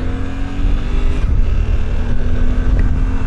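A 2024 Suzuki V-Strom 800RE with a 776cc four-stroke engine, ridden on a road in Pennsylvania; a steady, loud engine drone holds throughout with slight swells in revs and wind rush, no voices.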